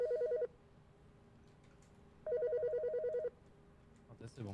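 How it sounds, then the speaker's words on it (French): A telephone rings in the Dale & Dawson office video game, two bursts of an electronic warbling ring separated by a pause, fairly quiet, with a brief voice at the end. "j'arrive pas à répondre au téléphone"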